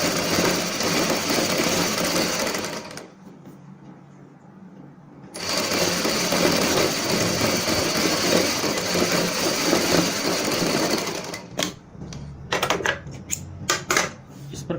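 Sewing machine stitching a fabric strip about 1.5 inches wide for a high-neck kameez, running in a fast, even mechanical chatter that pauses briefly, resumes, and then breaks into short stop-start bursts near the end.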